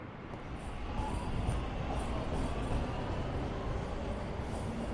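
A passenger train in the video game Trails through Daybreak, heard from aboard as a steady low rumble and rattle of rolling carriages with a faint high whine above, no talk.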